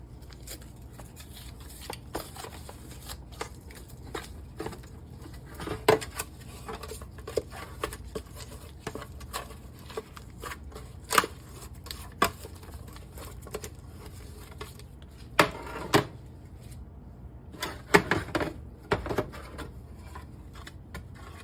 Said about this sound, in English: I am going to butter my pan.